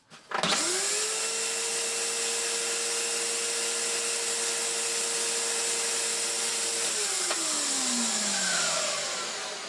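An Electrolux The Boss Cyclone Power Lite vacuum cleaner switches on with a rising whine and runs loud and steady, its motor pitch dropping near the end as airflow changes; no one speaks.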